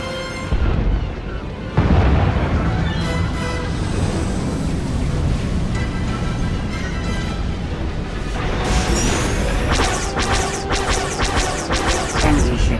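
Ships open fire in a Star Wars video game space battle, with sustained heavy blasts, crashing explosions and laser-like bursts piling up loudly and continuously, growing denser toward the end.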